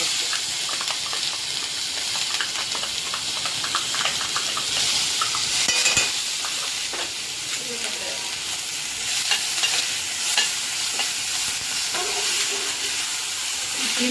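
Curry leaves hitting hot oil burst into a loud, continuous sizzle and hiss that stays strong for the whole stretch, with crackling spits and faint stirring noises mixed in, close up and with no talking.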